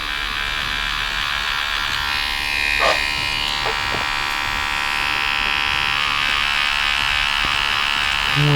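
A tattoo machine buzzes close and continuously while black ink is laid into a rose tattoo, with a constant electric hum and a few faint clicks and handling sounds.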